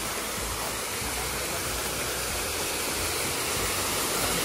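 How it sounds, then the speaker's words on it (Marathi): A small waterfall flows outdoors near a cashew orchard, its steady broadband rush of falling water filling the whole stretch, loud and close without letup. "mini waterfall"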